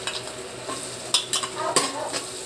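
Chopped ginger and garlic fry in a pan for squid adobo, a constant close sizzle broken by sharp scrapes and clinks of a spatula being stirred through, with no voices.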